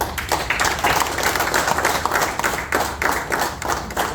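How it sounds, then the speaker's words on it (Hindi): An audience at a business growth and customer service event applauds, a dense, steady wash of many hands clapping together with faint pulses, loud and close and almost free of voices. "तो अपने लिए एक बार ताली दो।"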